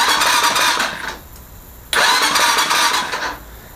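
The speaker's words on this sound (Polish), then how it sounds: "Załączamy hamulec przedni i dopiero rozrusznik." Electric starter motor cranking a motorbike engine in two loud bursts of whirring, each lasting about a second or more, separated by a brief quiet pause, with no talking.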